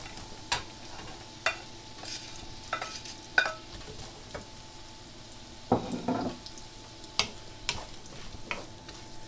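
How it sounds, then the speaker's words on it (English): Red peppers, courgettes and leeks sauté over high heat with a steady soft sizzle, broken by sharp utensil taps and scraping stirs at irregular intervals, close by and with no talk. "And we cook those through probably for about 3-4 minutes until they start getting soft on high heat."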